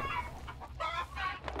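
Chickens in Hunt: Showdown cluck in a few short, close bursts over a low background rumble.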